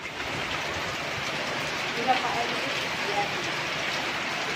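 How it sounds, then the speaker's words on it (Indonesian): Steady rain pours down on the slopes of Mount Lawu with wind and thunder about, a continuous broadband hiss with a couple of faint brief tones poking through the wash. "Hujan, angin, geledek."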